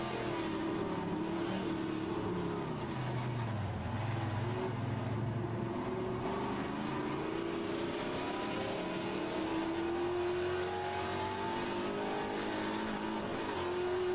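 A Trans Am race car engine in the HRSC racing game runs hard and over-revs, a continuous high engine whine whose pitch climbs and holds at a steady moderate level with no voices.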